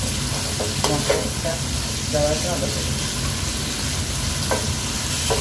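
Spice masala sautéing in a pan for an iftar dish, giving a steady frying sizzle with scraping stir strokes throughout, while someone talks over it.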